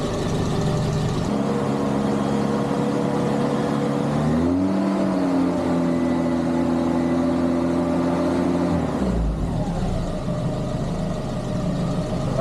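A Renault R8 engine with modern ignition runs on a dyno, idling loud and steady before the revs rise and hold at a higher pitch for several seconds, then drop back to idle, with no voices.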